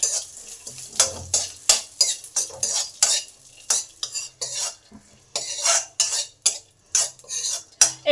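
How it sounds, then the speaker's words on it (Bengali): Dry fruits frying lightly in hot oil in a pan while a utensil stirs and scrapes them, giving a steady run of close, rhythmic scraping and clinking strokes over a soft sizzle, with no voices. "এই তেলে ড্রাই ফ্রুটগুলো একটু ভেজে নেব।"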